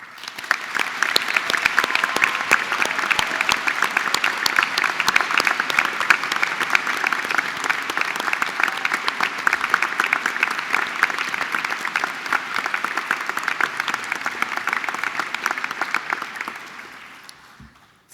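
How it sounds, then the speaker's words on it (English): A large crowd at a university graduation ceremony gives warm, sustained applause, many hands clapping in a thick continuous roar that holds steady for a long stretch and then fades out at the end. "you deserve a warm round of applause"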